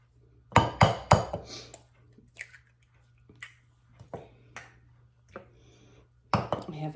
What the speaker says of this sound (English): I'm gonna crack my eggs into a separate bowl first